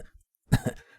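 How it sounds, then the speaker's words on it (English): A voice performs a single short, moderately loud cough, likely an acted one, in an otherwise quiet dramatic reading. "How long have you had that cough?"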